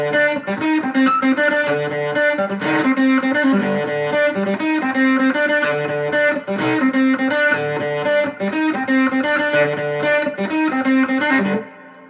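A loud, distorted electric guitar plays a riff from Jesus Christ Superstar, repeating a driving pattern of chords and notes for several seconds, then cuts off abruptly.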